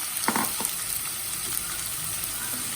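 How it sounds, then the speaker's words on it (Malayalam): Onion hisses and crackles as it goes into well-heated oil, a steady close sizzle with a brief burst of spattering near the start. "എണ്ണ നല്ലോണം ചൂടായി വന്നിട്ടുണ്ട് ഇനി ഇതിനകത്തോടെ നമ്മൾ ഉള്ളി ചേർത്ത് കൊടുക്കാം"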